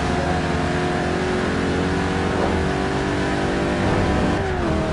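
A car engine in Forza Horizon on Xbox One revs hard and holds a loud, sustained roar with shifting pitch throughout, no speech over it.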